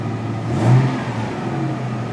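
A 1999 Toyota Tacoma engine, just fitted with a new throttle position sensor, runs steadily at a close, even idle, with one brief rise in revs before settling back.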